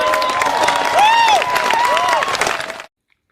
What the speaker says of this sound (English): Yeah, the clapping in the background,